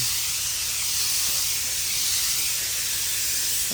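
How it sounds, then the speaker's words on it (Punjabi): A sprayer hose spraying pesticide along tomato rows on a farm in Italy gives a steady, loud, continuous hiss of pressurised spray that holds unbroken throughout, with no voices. "ਇਦਾਂ ਕਰਕੇ ਪੈਪ ਖਿੱਚੀ ਦੀ ਕੱਲੀ ਕੱਲੀ ਲਾਈਨ ਨੂੰ ਸਪਰੇਅ ਕਰਨੀ"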